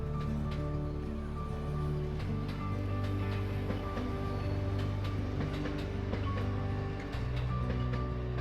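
A train rumbles steadily along the track nearby at Lake Kawaguchiko, Japan, with low droning engine tones and rhythmic clatter throughout.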